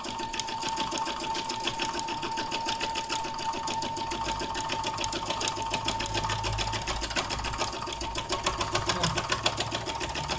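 A sewing machine does free-motion stitching of palm tree shapes on a patchwork appliqué, a fast, even mechanical rattle of stitches running continuously and loud up close.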